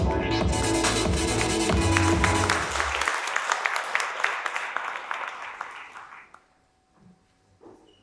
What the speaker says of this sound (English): Please welcome him on the stage with a round of applause.